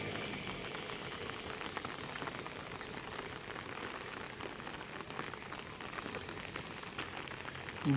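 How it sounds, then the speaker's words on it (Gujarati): Steady rain patters continuously on surfaces, an even hiss with no voices. "હાલ વરસાદ ચાલુ છે"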